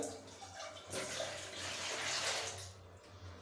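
Water pours steadily with a soft splashing rush into a glass as a measured amount is added, a faint continuous flow lasting a few seconds with no talking.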